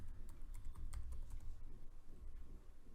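Someone types a password on a computer keyboard in a quiet run of soft, closely spaced key clicks over a low background hum, with no talking.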